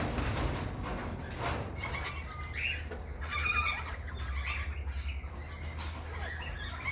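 Corellas screech in raspy, strident calls, several bursts over a few seconds, mixed with other birds chirping in an outdoor aviary setting with steady background noise.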